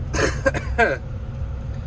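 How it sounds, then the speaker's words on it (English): A few quick, rough coughs close to the microphone, bunched together in a short burst, then quiet background hum. "Still can't get rid of this cough."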